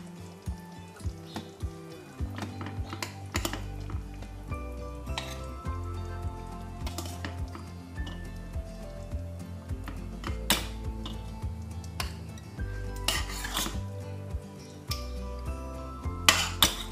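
While Tunisian mermez with lamb finishes cooking on a gas stove, a plate is taken out: scattered close clinks and knocks of dishes and pans sound against a faint low sizzling hum, with no voices.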